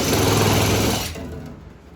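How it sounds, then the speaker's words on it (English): A power drill whirs loudly and steadily while working on a 1974 Chevy Nova quarter panel, then winds down and fades out over the last second. "It's all about holding the drill right"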